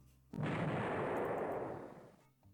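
A naval gun salvo fires at an unidentified ship in the naval strategy game Rule the Waves 3: one loud, sudden boom rolls on as a broad roar for nearly two seconds, then cuts off.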